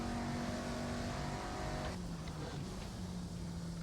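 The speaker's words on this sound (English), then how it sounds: "Not a particularly bad sounding automobile." A car engine hums steadily while the car is driven at Goodwood. The engine note is held and then shifts about halfway through, heard from inside at a moderate, even level.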